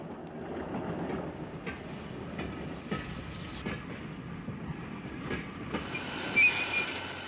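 A special medical train staffed by German doctors and nurses rolls along the rails during a 1978 NATO exercise in Germany, with rhythmic wheel clatter over a rumbling carriage and a faint squeal toward the end.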